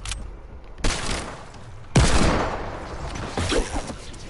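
Gunfire in the Fortnite video game during a playground pirate ship battle, several bursts of rapid shots with sharp onsets and decaying rumble, close and loud, no talking.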